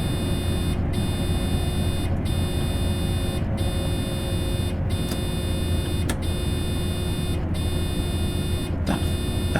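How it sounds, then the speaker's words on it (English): A steady warning buzzer sounds in a Train Sim World 3 train cab. The tone cuts out briefly at regular intervals of about a second and a half, over a constant low rumble of the cab. "Something is beeping again."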